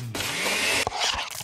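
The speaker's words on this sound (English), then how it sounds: "that's the sound of a smoothie bowl being made fresh just for you" A blender whirs at high speed making a fresh smoothie bowl of bananas, berries and mango, a loud, brief, steady buzz that cuts off abruptly and is followed by a few clunks.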